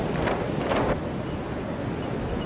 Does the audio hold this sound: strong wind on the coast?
yes